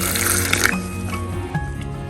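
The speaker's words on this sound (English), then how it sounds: "Let's pour milk into that." Milk poured over chocolate bombs: a wet, squishy liquid splash with gurgling and dripping, fairly close, with busy kitchen background noise throughout.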